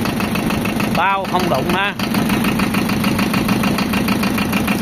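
A Kubota or Yanmar tractor with a Japanese-import engine idles in a steady, close, even chugging rhythm, while someone speaks briefly over it.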